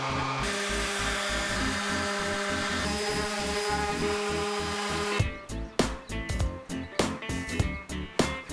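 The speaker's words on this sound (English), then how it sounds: "it was time for final sanding and cleaning up of the through tenons." Rhythmic scratching and rubbing of abrasive on wood during final sanding of through tenons, first a steady rapid buzzing stroke, then slower separate scrapes, close up with no talking.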